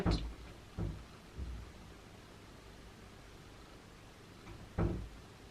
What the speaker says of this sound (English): that was doors opening and closing quickly on its own, like a open, close, open, close, open, close